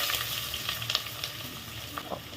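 Chopped onions and bay leaves fry in hot oil for a mushroom biryani, crackling and sizzling steadily, close by and fairly loud, with occasional stirring.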